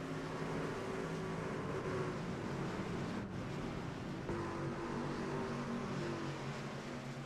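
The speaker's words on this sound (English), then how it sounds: "Man, listen to them engine sounds." Race car engines in the iRacing game drone steadily at a superspeedway, a dense continuous pack roar with a brief dip partway through, no voices.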